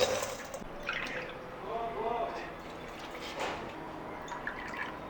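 Water trickles and drips onto half a kilo of jaggery in a pan on the stove for syrup for an Andhra coconut sweet, faint liquid sounds close by under people talking.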